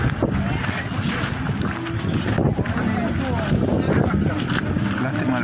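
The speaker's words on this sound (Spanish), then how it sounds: "Lástima el viento hoy." Wind gusting across an outdoor market stall area, a steady rough rumble of microphone buffeting that runs the whole time beneath the busy crowd murmur and scattered voices nearby.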